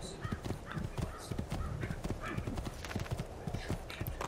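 Horse hooves clip-clop in a steady, quick rhythm in Assassin's Creed II, close and continuous throughout, with faint game ambience and a hint of speech beneath.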